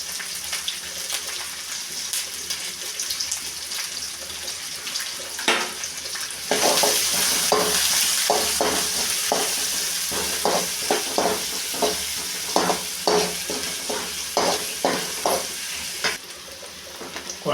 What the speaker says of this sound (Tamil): குழம்பு நல்லா டேஸ்ட் வரணும்னா வெங்காயம் நல்லா வதங்கி வரணுங்க.